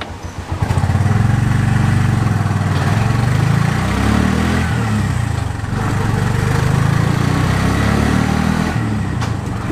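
A tuk tuk (auto rickshaw) engine runs steadily while cruising in third gear, a loud, close, continuous low putter with slight swells in revs throughout.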